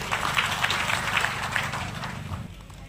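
An audience at a public programme claps together in steady, dense applause lasting a few seconds, fairly close and without any voices over it.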